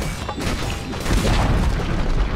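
Dire's middle tower collapses in Dota 2, a dense, rumbling crash of crumbling stone that swells into a heavier booming roar about a second in and keeps churning to the end, loud and close, with no voices.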